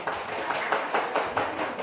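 Umrah pilgrims at a religious gathering clap their hands together. The clapping is soft and rhythmic with loose, repeated pulses and no speech over it.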